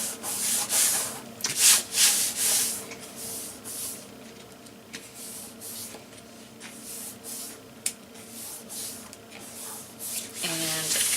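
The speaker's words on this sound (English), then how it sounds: "Make sure you burnish between each of the hinges so that you get really good adhesion." Paper hinges of a graduation-box mini album are burnished with a tool, giving repeated close rubbing and scraping strokes, strongest early on, with a voice speaking briefly near the end.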